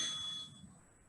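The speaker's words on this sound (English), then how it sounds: "When you hear the bell, that means we start." A single bell signals the start of a weight workout round, ringing as a clear bright tone at the outset and decaying quietly over about a second.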